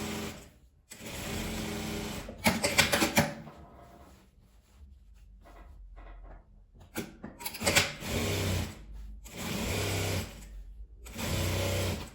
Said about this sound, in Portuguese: Vou passar um pesponto, rebatendo a costura.